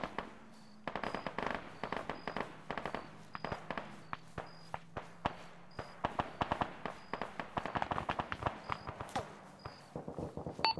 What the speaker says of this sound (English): Taking pot shots.